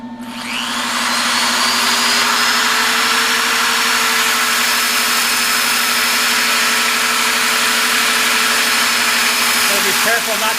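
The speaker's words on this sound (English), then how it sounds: "it's sanding time. I'm going to use this drum here" A disc sander in a woodturning shop hums loud and steady while working a live edge walnut bowl, with a high whine above a constant low drone that sets in after a short start and runs unbroken to the end.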